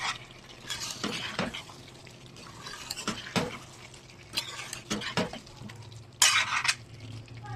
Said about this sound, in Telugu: కొత్తిమీర వేస్తాను కదా, ఇప్పుడు దీన్ని ఒకసారి కలిపేసుకున్నాను